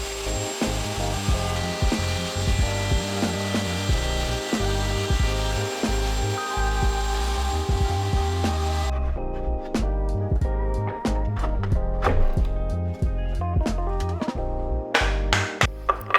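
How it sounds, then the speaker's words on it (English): Power tool cutting dados into wooden cabinet shelves with a shop-made jig, taking a couple of passes toward 3/8 inch depth; a steady loud whir with grinding bite that drops to lighter rasping and sharp knocks partway through, no talk. "I make a couple passes to get down to the 3/8 inch depth that I'm going for"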